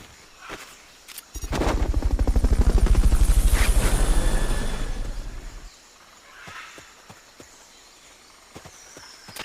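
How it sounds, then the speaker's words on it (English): The Fulton recovery helicopter in the video game Metal Gear Solid Peace Walker thunders in loudly with a rapid rotor chop that swells and then fades, followed by scattered sharp clicks and taps. "Fulton recovery helicopter is complete."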